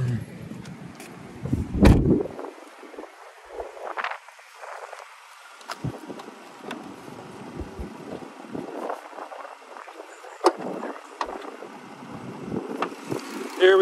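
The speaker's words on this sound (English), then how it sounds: "As you can hear the motor, it's purring, no shaking, no vibration." A 2011 Dodge Grand Caravan with a 3.6 liter engine idles under the open hood at a shop, a low, steady engine hum partly masked by gusts of wind buffeting the microphone and occasional clicks.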